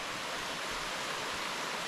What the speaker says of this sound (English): Little waterfalls and stuff to look at along the way.